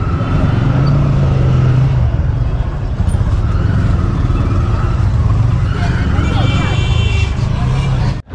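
Busy road traffic with auto rickshaws near the market at the Petrapole border crossing between India and Bangladesh, a loud continuous rumble of engines close by, with people talking throughout.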